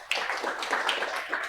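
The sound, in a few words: applause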